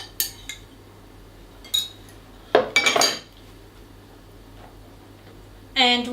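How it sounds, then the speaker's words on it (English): A utensil mixes mashed bananas with other ingredients in a bowl for vegan, gluten-free chickpea banana muffins, giving sparse clinks and scrapes against the bowl, with one louder burst of stirring clatter and short pauses between. "I've got 2 mashed bananas here in the bowl, and I'm going to mix it with the rest."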